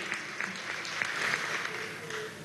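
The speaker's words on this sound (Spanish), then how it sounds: "Aquí está un aplauso para el alcalde de Palavecino" Applause for the mayor of Palavecino at a governors' swearing-in ceremony in Lara, a steady wash of clapping from a crowd with faint voices mixed in.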